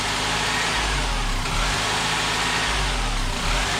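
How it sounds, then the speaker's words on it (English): Engine of a 7th-generation Honda Accord idling with a surge from a vacuum leak, a steady close mechanical drone whose low rumble swells and dips in slow waves, with no talk over it. "The surging idle is the vacuum leak"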